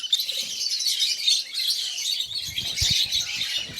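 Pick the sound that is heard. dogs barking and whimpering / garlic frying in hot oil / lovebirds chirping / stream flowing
lovebirds chirping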